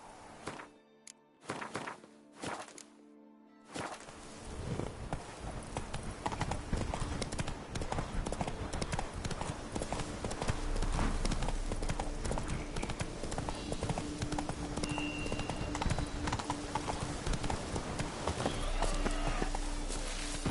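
The horse Roach galloping in the video game The Witcher 3, a dense, rapid drumming of hooves that starts after a few brief clatters and runs loud and continuous to the end, with faint game sounds underneath.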